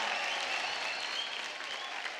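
Audience applause on a televised Indian singing competition show, a continuous wash of clapping from a large studio crowd, even and moderately loud, fading slightly toward the end.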